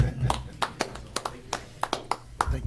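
Sparse, separate hand claps from attendees at a county committee-of-the-whole meeting, about ten sharp slaps at an uneven, unhurried pace over a low room hum, fairly close and moderately loud.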